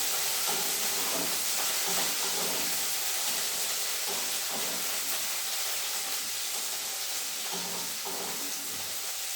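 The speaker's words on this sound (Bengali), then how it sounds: "কপিগুলো এখন ভাজা হবে।" Cauliflower florets sizzle in hot oil with whole spices in a pan, a continuous close hiss with faint stirring scrapes and no talk.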